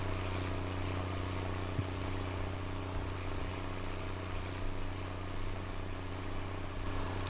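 A combine harvester engine in Farming Simulator 19 harvesting wheat on a Canadian farm gives a steady, heavy low drone that holds an even level throughout with no talking.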